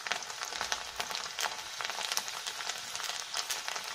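Garlic fries in hot sesame oil for Kerala-style lemon pickle, a soft, even crackling sizzle heard close but quiet.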